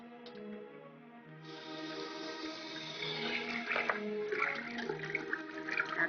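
A water tap runs steadily, a full rushing stream that grows louder and splashes more as it goes on, with music playing alongside and no talking.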